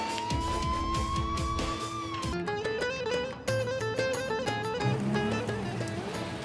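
A police car siren wails loudly and close, its tone rising and sliding through repeated cycles, then shifting into a faster yelp pattern, with traffic rumble underneath.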